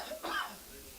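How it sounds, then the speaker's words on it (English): A single short, rough cough from a man nearby at a calf and feeder cattle auction, set against a hissy background with faint voices. "Got a man back here coughing in my ear."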